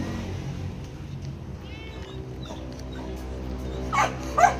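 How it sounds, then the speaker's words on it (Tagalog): Several pet dogs at home barking, yipping and whimpering, mostly distant and soft at first, then two sharper, louder barks near the end. "Yung isa, tahol na lang tahol doon."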